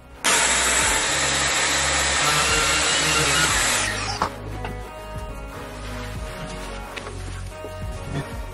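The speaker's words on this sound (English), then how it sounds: "I get my orbital sander and I attach it to our industrial hoover and do it that way" An orbital sander hooked up to an industrial vacuum whines loudly and steadily for about four seconds, then cuts off, leaving quieter scraping and handling sounds.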